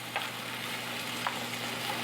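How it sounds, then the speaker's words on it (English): Chicken sizzles in a hot pan while it is stirred, a steady close frying hiss with a few faint scrapes of the spoon against the pan. "So I'm just gonna give this all a good stir."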